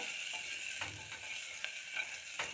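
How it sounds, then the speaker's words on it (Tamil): Pumpkin sautés in butter in a pan with a steady, close sizzle. A spatula stirs it, adding light scraping ticks every half second or so. "இப்போ ஒரு டூ மினிட்ஸ் நல்லா வதக்கிட்டு வதக்கிட்டு வதக்கிட்டே இருக்கோம்"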